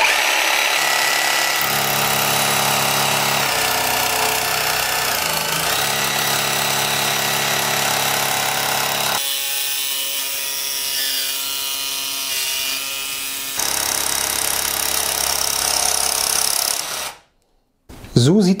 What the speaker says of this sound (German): nicht gegen das Material drücken und die Stichsäge anmachen, sondern die Säge anmachen und dann gegen das Material führen